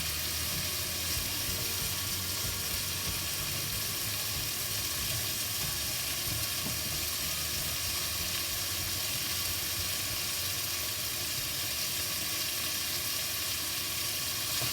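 Firm tofu sizzles steadily in a pan of Thai red curry as it is stirred, a constant broadband frying hiss with soft scraping underneath, close and continuous with no talking.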